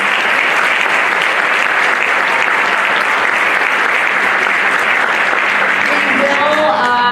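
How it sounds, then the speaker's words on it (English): A crowd at a school Pride rally gives a loud, continuous round of applause, thick uniform clapping from many hands close by, with a few cheers or voices rising near the end. "We can give her a round of applause"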